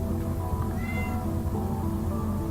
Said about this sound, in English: What is it, Cat? Quiet down.